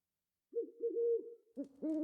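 Owl hooting in The Witcher video game, a series of soft, low, close hoots in a few short phrases, the last ones louder and fuller, with no talk.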